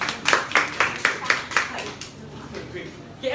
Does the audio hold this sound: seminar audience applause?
yes